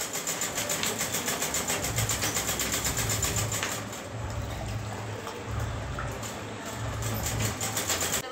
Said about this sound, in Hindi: सिलाई कर रही है